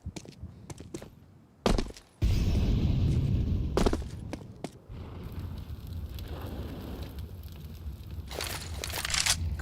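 An incendiary grenade burns in Counter-Strike with a steady crackling, roaring hiss that runs under the game action. Sharp gunshots and impacts cut in near the start.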